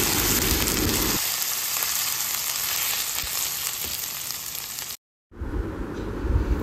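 Crushed ginger and whole cumin sizzle steadily in a hot pan, a loud frying hiss at first that settles into a softer crackle, briefly cut off by a moment of silence before resuming.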